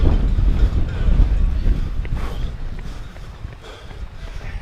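Strong wind rumbles and buffets the microphone outdoors during a road race up the Mount Washington Auto Road, a steady low roar that eases slightly toward the end, with faint voices and movement nearby.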